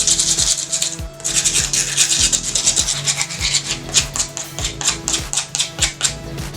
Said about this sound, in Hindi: इसका जो साइड का पोर्शन है इसे हमें पूरा गोल शेप देना है, तो हम इसे रेगमाल से इसको थोड़ा घिसेंगे